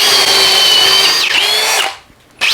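A Metabo HPT 36V hammer drill on drilling mode whines loudly and steadily as it bores a fresh hole, pitch dipping briefly under load, then cutting out before a short restart at the end.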